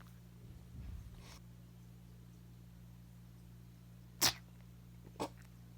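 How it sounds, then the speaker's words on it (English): A person sneezes twice at close range, a sharp burst followed about a second later by a smaller one, over a low steady hum in an otherwise quiet room. "Oh, you sneezed on me."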